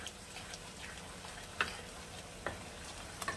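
Chicken masala with turmeric frying over a high flame in a pan, a faint, steady sizzle broken by a few soft utensil taps and scrapes, with no voices.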